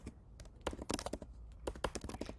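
Quick keystrokes on a computer keyboard while typing a comment, irregular clusters of sharp taps with short pauses, close and clear, no talking.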